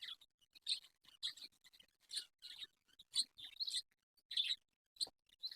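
Budgerigars in a breeding setup chirp in short, quick bursts of high, bright tweets, with brief silent gaps between them; the calls are fairly faint and there is no talking.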